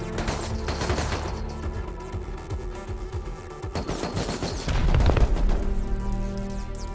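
Video game gunfire in a chain-link base, dense bursts of rapid shots and booms crowding together, loud and continuous with a heavier surge near the end.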